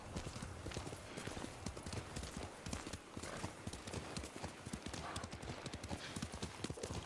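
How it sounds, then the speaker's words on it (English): Steady rhythmic clip-clopping of hooves from Yuriko's horse in Ghost of Tsushima, a quiet, continuous trot of repeated hoofbeats over faint outdoor background sound. "Yuriko's horse."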